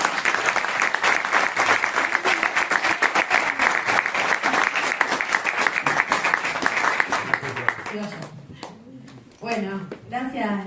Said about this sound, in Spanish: les damos un fuerte aplauso y le damos la bienvenida